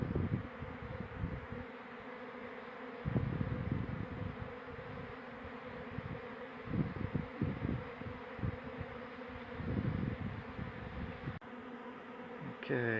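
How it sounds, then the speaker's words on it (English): Honey bees swarm and hum continuously around a barrel beehive being relocated, a dense buzzing drone that swells and fades as insects pass near, with no voices. "scooping some bees out of the barrel"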